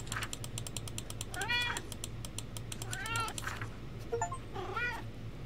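Cat meows and purrs from a cat being petted in a video game, several distinct meows rising over a steady low purr and soft clicking like keyboard typing.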